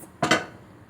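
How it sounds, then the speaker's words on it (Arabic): A cooking pot is set down on a gas stove with a single short metallic clank and brief ringing, followed by quiet kitchen background. "هنجيب حله نحطها على البوتاجاز"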